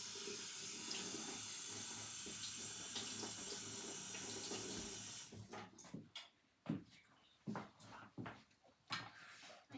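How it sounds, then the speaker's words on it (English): Tap water runs steadily and close by as a knife is rinsed under a kitchen faucet, then the flow stops and a few short clatters and knocks follow. "We'll rinse the knife because otherwise something will rust."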